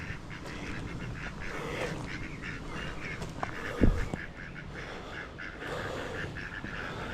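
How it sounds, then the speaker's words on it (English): Ducks at a pond in a nature reserve near Sandwich, several scattered quacks at moderate distance over outdoor background noise, with one louder honking call near the middle. "There's some ducks up. Here we go, there's some quackies."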